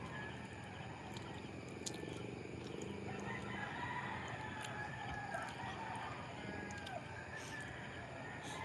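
A rooster crows in the early hours around 4 a.m. in Cebu City, faint and somewhat distant over a steady background hum, with several calls spread across the stretch.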